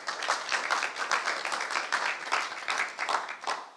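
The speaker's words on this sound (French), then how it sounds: "Arnaud Lancharo du lycée Amiral de Grasse, on l'applaudit." An audience applauds a finalist at a regional BTS sales-competition ceremony, a fairly close, steady patter of many hands clapping throughout.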